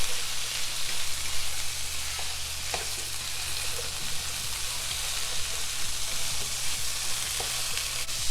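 A potato and egg breakfast mixture frying in a skillet, with a steady, dense sizzle and occasional soft stirring scrapes, close and continuous throughout.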